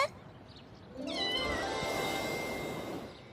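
A small kitten gives one long, high, wavering meow at close range, with a faint squeak just before it.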